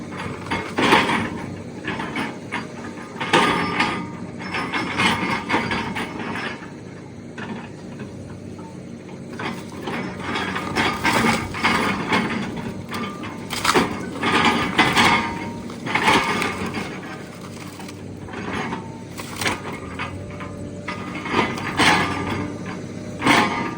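Excavator fitted with a frost tooth digging across a ditch, heard as repeated grinding, scraping and clanking bursts of metal against soil and debris, fairly close and steady throughout with no talking.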